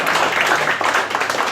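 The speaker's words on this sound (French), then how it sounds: "Je peux l'applaudir aussi." A crowd at the 2017 Fourchette d'or event at restaurant Le Tournant in Levallois-Perret applauds Patrick Roffet, a dense, steady wash of clapping that fills the whole moment.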